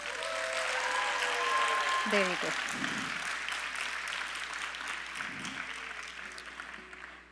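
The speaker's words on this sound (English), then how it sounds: "Let's give a thunderous round of applause to our orchestra." An audience applauds the orchestra at a Bharatanatyam arangetram dance debut, a sustained wash of steady clapping heard from within the hall while someone speaks briefly over it.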